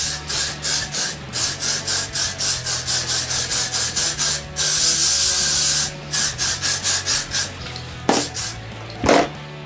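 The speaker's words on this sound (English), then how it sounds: "All you're going to do is just spray it in your hair" Schwarzkopf hairspray sprays into hair in a quick series of short, close, hissing bursts at a steady rhythm, then one longer continuous spray, followed by a few more puffs and light handling rustles.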